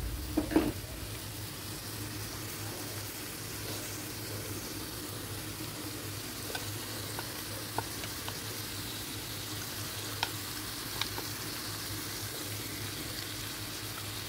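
Bottle gourd and ground masala fry in a pan with a steady, close sizzle, broken by a few light stirring clinks and taps, no voices.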